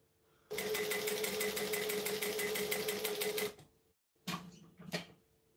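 Sewing machine running a line of topstitching: a rapid, even mechanical chatter lasting about three seconds, then stopping, followed by two brief bursts of stitching, close and moderately loud.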